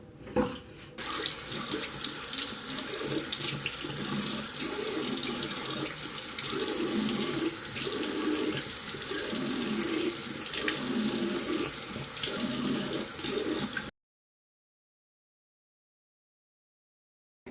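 Tap water runs steadily while hair is rinsed, a loud, continuous close-up splashing stream that lasts about thirteen seconds and then stops abruptly.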